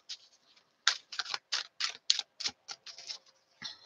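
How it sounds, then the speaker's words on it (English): A deck of tarot cards is shuffled up close in a quiet room, a series of crisp, papery riffles and flicks in short irregular bursts with brief pauses between them. "let me just shuffle up the cards and see what they have to say"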